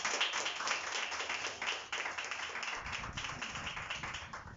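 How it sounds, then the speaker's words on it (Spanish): A church congregation applauds, with uneven, scattered hand claps and taps that thicken into fuller clapping partway through, moderately loud and with no voices over it. "Dale un aplauso, Señor"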